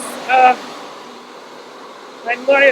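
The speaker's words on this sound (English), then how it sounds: "Now we're at the blow drying." A blow dryer runs at a natural-hair salon, giving a steady, moderately loud airy whoosh throughout, with short bursts of talk near the start and end.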